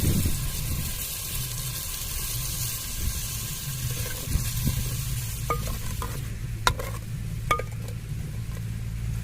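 Peas cook in a clay pot as water is added, with a continuous soft sizzle and bubbling. Scattered light clinks of a utensil against the pot sound close by.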